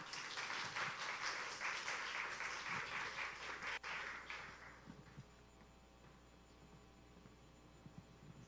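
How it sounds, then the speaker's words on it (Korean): An audience applauds to welcome a speaker at a lay academy lecture, a dense crowd of clapping that fades after a few seconds into a quiet room with faint hum. "나오실 때 박수로 환영을 하겠습니다"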